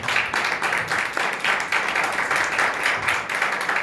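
A church congregation claps hands in praise during a Hindi-language worship service, producing a dense, even wash of clapping with a loose pulsing rhythm, close and steady throughout with no voices over it.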